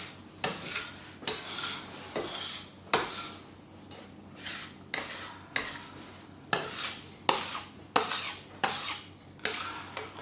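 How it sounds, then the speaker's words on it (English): A scraper drags repeatedly across a table to clear excess flour and stuck dough, about a dozen rhythmic rasping strokes, close and fairly loud, with no talking. "scraping up any excess flour or anything that's stuck on your table"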